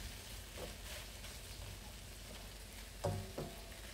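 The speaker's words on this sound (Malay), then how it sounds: "Terus kacau-kacau lagi sehingga sebati." Instant noodles frying in a pan with sweet soy sauce, a soft steady sizzle throughout with a couple of louder scraping stirs near the end.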